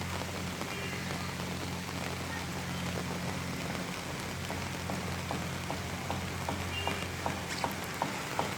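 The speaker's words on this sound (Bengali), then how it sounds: "আমাদের গ্রামে কিন্তু অনেক বৃষ্টি হচ্ছে" Steady rain falls in a Bangladeshi village, a dense even hiss with scattered drop taps and a low constant hum underneath, continuous for the whole stretch with no voices.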